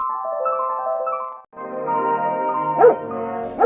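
Two sharp dog barks near the end, heard over a steady, tonal, melody-like background.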